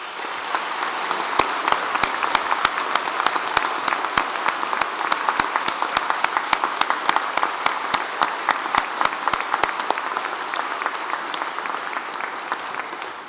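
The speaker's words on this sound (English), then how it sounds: "Can I ask you to join with me in, first of all, applauding our musicians who have entertained you." Audience at a Cambridge graduation ceremony applauding the musicians, dense sustained clapping from a large hall crowd with sharp individual claps standing out, continuing strongly for over twelve seconds.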